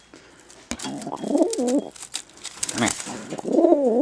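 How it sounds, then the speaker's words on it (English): Pigeons coo repeatedly at close range near a nest with baby pigeons, with occasional wing flutters and a person speaking softly. "Pigeon."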